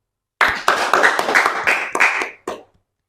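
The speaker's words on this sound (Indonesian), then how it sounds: "Oke, kita beri tepuk tangan dulu." Hand clapping at a student youth event marking Youth Pledge Day, about nine sharp, close, separate claps in a quick uneven rhythm that stop abruptly, with no talk over them.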